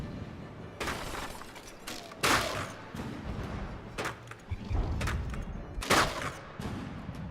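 Frag shells striking a ship in the naval combat game From The Depths, a scatter of sharp crashing impacts and bursts at irregular intervals, moderately distant over a low rumbling background.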